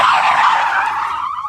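Tyres skid and squeal on the thinnest street-legal car as its stability is tested, a loud, sustained screech close by, fading slightly toward the end with no talk.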